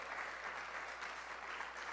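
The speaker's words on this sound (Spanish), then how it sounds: "Ahora denle un aplauso bien fuerte al Señor." Steady, fairly faint applause from a church congregation, an even wash of many hands clapping that holds for the full two seconds without any speech over it.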